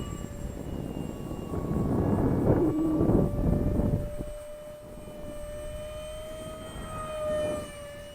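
A Zeta Ultra-Z Blaze 790mm EDF jet model plane flying at partial throttle in gusty wind, a steady whining ducted-fan tone that rises and falls as it passes, with a louder swell midway, heard from the ground at moderate distance.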